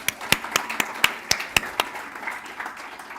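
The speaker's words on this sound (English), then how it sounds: "Let's give her another round of applause." An audience at a civil engineering presidential inauguration claps, a thin scattering of sharp individual hand claps rather than a full ovation, fairly close and unaccompanied by speech.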